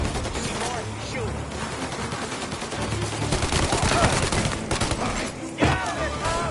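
Gunfire in the Mafia video game, rapid bursts of shots and automatic fire crackling loudly in a dense, chaotic stretch, with shouting voices mixed in among the shooting.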